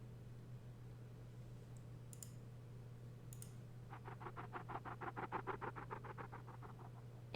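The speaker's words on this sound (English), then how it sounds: "I can hear the rustling of tiny legs." Small skittering patter of tiny legs in The Longest Journey, a faint rapid run of soft ticks building up over the last few seconds above a steady low hum, with a couple of brief high tinkles earlier.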